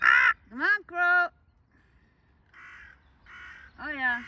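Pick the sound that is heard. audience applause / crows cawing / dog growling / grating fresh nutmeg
crows cawing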